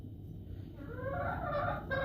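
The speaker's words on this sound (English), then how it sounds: "Such a good little silky rooster." A silkie rooster makes soft, close, warbling clucks and gobbling calls that rise over a low background hum, with no talking.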